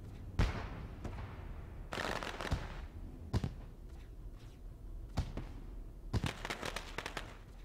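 Fireworks going off after a sim race at Southern National, sharp cracks and bursts in irregular clusters, some crackling volleys, over a low steady background with no clear speech.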